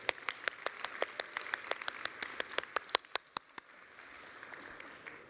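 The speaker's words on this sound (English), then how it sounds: "Round of applause, please." A modest audience at a school-funding stage program gives a round of applause. The claps are distinct and fairly sparse, then thin out and fade after a few seconds.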